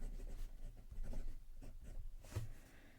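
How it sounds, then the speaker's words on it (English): A broad steel fountain pen nib scratches and glides across paper in short, close strokes, a soft continuous rustle with small pauses between marks. "So I thought we'll just do a quick writing sample."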